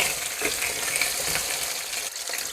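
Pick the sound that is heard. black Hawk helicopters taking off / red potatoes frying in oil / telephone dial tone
red potatoes frying in oil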